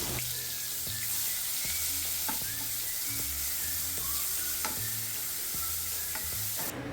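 Green paste sautéing in a pan for sabudana khichadi, a steady sizzle with repeated scraping and stirring strokes of a spoon against the pan, close and continuous, with no talk.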